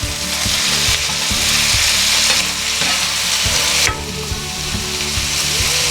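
Onions fry in a pan with a steady, loud sizzle and repeated stirring scrapes, nearly continuous over several seconds, alone with no talk.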